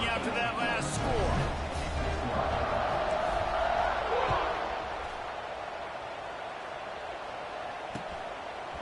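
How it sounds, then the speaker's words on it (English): Stadium crowd in a college football video game featuring Ole Miss buzzes as a loud, steady roar around a kickoff return, easing to a lower murmur partway through, under a commentator's voice. "this crowd is buzzing after that last score"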